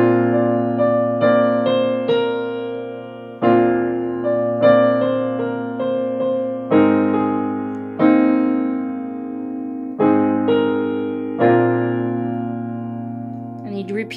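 A melodic instrument plays the tutorial segment straight through, a series of clear struck or plucked phrases with sustained decaying tones, regular rhythmic groupings, close and moderately loud with no talking.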